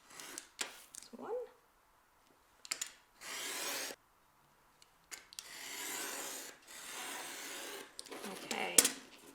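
Scraping, rasping strokes of a craft blade drawn along a ruler, slicing paper into strips at home, come in several close, separate bursts with pauses between, with brief low speech in the gaps.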